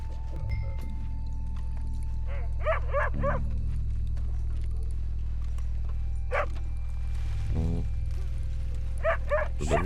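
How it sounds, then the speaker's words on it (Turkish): A dog in the Red Dead Redemption video game barks several times in short separate bursts, close and clear over a low steady game background hum, with a brief murmur from a person. "köpek"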